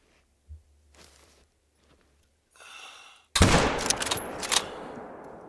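In a theHunter: Call of the Wild hunt for a red deer, quiet rustling and footsteps lead up to one sudden, loud rifle shot that booms and rolls on for a couple of seconds.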